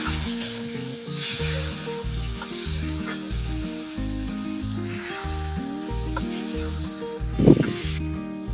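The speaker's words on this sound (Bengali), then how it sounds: "পেঁয়াজটা একটু লাল লাল ভাজা হয়ে গেছে, টমেটো গুলো দিয়ে দেবো।" Onions and tomatoes sizzle in a pan for Bengali shol fish curry, a steady hiss with occasional scraping stirs and a brief louder clatter near the end, all under continuous background music.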